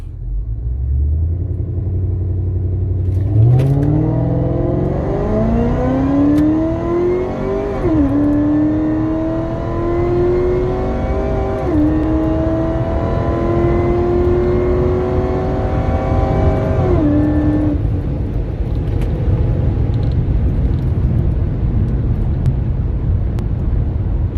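A supercharged LSA Chevy SS launches from a standing start on a drag run, its engine roaring loud and near and rising in pitch through several gear shifts before lifting off and settling into a low rumble.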